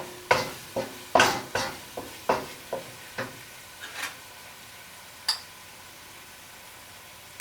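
A utensil stirs berbere spice into a sautéing pan for kuwanta firfir, making a series of close, sharp scrapes and taps over a faint, steady sizzle. The strokes thin out toward the end.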